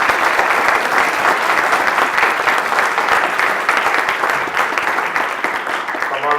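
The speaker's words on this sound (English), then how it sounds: "So let's give him a round of applause." Audience applause at a retirement celebration in a historical society gathering, loud dense clapping from a crowd that holds steady and then starts to thin near the end.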